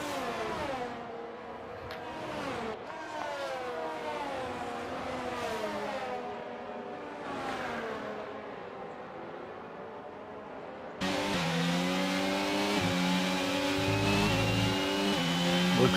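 Formula 1 race cars in an F1 video game at the China round, including a Haas and an Aston Martin, whine through repeated rising and falling engine revs. A louder, closer engine takes over for the final few seconds.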